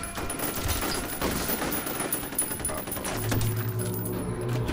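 Gunfire in the video game F.E.A.R. Extraction Point: rapid overlapping bursts of shots and clattering impacts under a busy background, moderately loud, with a low droning tone near the end.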